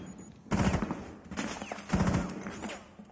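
Gunfire in Rainbow Six Siege, two bursts of rapid shots about a second and a half apart, fairly close and loud over a steady game background.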